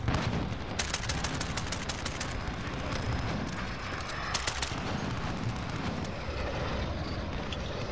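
Rapid bursts of gunfire from the Modern Warfare video game, with an AS VAL in play, crackle over a dense, roaring wash of explosions and aircraft noise, loud and continuous throughout.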